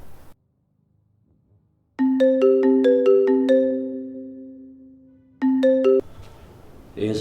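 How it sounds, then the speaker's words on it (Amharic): A phone ringtone plays a repeating melodic tone pattern, then a short second burst, loud and clear in a quiet indoor room, followed by a voice at the end. "ይሄን ስልክ የግድ መመለስ አለብኝ።"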